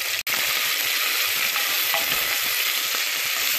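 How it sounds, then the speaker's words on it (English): Garlic, ginger, green chilies and onion fry in a pan with a dense, steady, close sizzle, and one sharp click comes near the start. "after my garlic is getting golden brown, I'll add into this ginger and green chilies, and followed by the onion"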